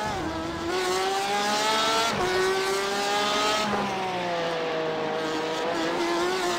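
Porsche race cars in the iRacing sim, competing in the American iRacing Tuesday Series at Detroit, roar loud and close, several engines revving and shifting in overlapping rising and falling tones that never let up.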